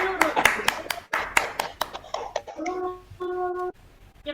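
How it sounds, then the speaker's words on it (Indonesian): Classroom applause as pupils clap hands in quick bursts, followed by children's voices chattering and calling out. "tepuk tangan dulu untuk Mbak Nurul."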